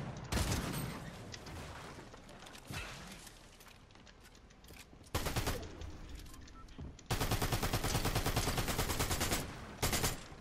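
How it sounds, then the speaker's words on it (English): Bursts of rapid SMG fire crackle in a video game match, several sharp automatic volleys separated by brief lulls, loud and close, with the longest burst near the end. "This SMG's fire rate is so good."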